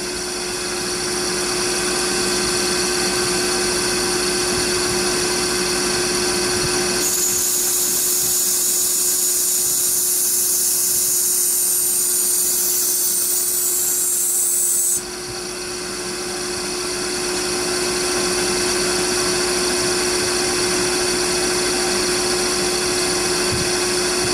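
A grinder cutting the bevel on a folding knife blade, a steady loud whine with a constant tone, rising into a harsher, brighter grind in the middle stretch before settling back, close and alone.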